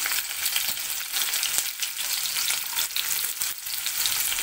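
Onions frying in oil for a mushroom fry, a steady close crackling sizzle with a few brief stirring clicks and no voices.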